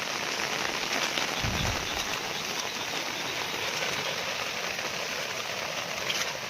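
Steady rain pouring down over waterlogged farm fields, a constant close hiss of drops striking water and ground that runs unbroken throughout, with no talking.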